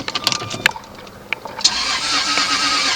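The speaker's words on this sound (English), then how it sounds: "Will it start the engine?" A 2000 Jaguar S-Type engine starting: a few clicks and a cranking whir, then the engine catches and settles into a steady, moderately loud idle, with no voices.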